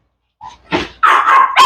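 Puppies about four or five weeks old, seven in a litter, let out short yips and then a sustained high whining bark, loud and close, in bursts under a second apart.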